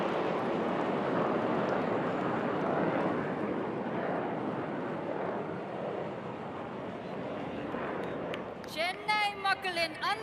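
Surya Kiran display jets making a fly-past over Marina Beach, a broad roaring rush of jet noise that swells and slowly fades, with a voice speaking over the end.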